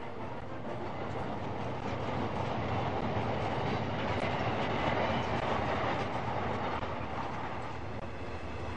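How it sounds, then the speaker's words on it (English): An armoured train runs along a railway line, a loud continuous rolling rumble with faint clickety-clack of wheels on rails, steady and close throughout. "an armoured train with 150 British soldiers on board set off on patrol along this railway line"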